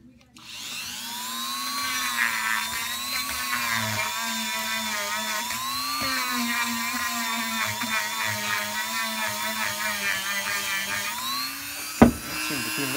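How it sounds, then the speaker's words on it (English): A Dremel rotary tool grinds into holes on a Norton Commando 750 motorcycle during restoration, a steady high whine with shifting pitch held for most of the span, ending in a sharp clack near the close. "I'll try this Dremel in these holes."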